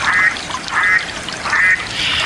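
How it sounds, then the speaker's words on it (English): Mallard duck quacks in three loud, close, raspy calls spaced evenly over a couple of seconds, with no talking. "It's a mallard duck."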